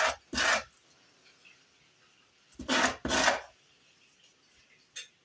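A wooden piece has its end corners rounded by hand with a rasp or file, giving a few separate loud scraping strokes, one then a close pair, then a short faint one, with quiet between.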